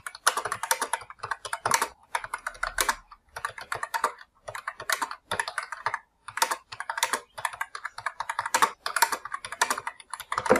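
Quick bursts of typing on a computer keyboard clatter close and clear, keys tapping in uneven runs with short pauses between words and no talking.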